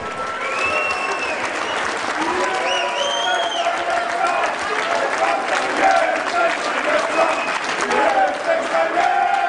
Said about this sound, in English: how about another big round of applause for these athletes, Team Poland and Team USA